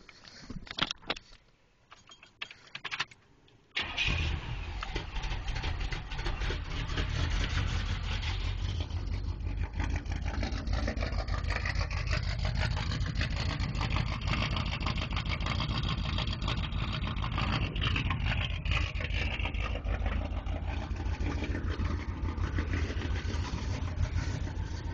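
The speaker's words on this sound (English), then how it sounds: "it's 1985 SS Monte Carlo. I'll show you the exhaust." A 1985 Chevrolet Monte Carlo SS idles with a steady, loud, close exhaust rumble that runs unbroken after a few seconds of handling noise at the start, with no talking.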